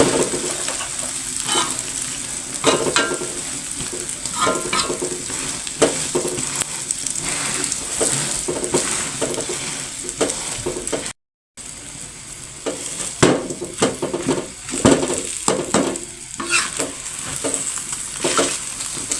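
Sambal goreng sizzles and is stir-fried in a pan, a constant close crackle with frequent scraping clicks of a spatula stirring, broken by one brief gap.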